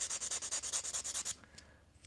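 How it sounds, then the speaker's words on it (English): A sanding block rubs rapidly back and forth across a plastic model kit part, about a dozen quick even strokes close up, then stops, leaving faint handling sounds. "I had always been using my sanding block, like my fat sanding block there."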